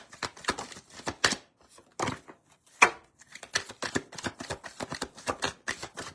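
Tarot cards are shuffled by hand in quick, crisp bursts of riffling and slapping, close and fairly quiet, running as an irregular patter of card flicks with brief gaps and no talking.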